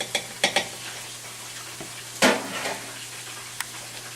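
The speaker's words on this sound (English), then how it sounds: "And I'm going to whisk in a 1/4 cup of all-purpose flour." Whisking flour into milk and onion in a pan: a few clinks of the whisk against the pan, then a louder scrape and a steady soft swishing, close by, with no talk.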